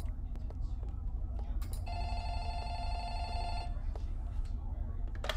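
A telephone rings in a horror video game, a bright electronic bell trill lasting about two seconds mid-clip over a constant low rumble of game ambience, with faint clicks around it.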